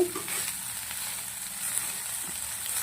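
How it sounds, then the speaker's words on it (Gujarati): Cashews and cumin sizzle steadily in a hot pan with oil, a soft continuous frying hiss with a faint stir, alone and at moderate level. "કાજુ જીરાવાળી જીરા ફ્રાય રેડી થઈ ગઈ છે"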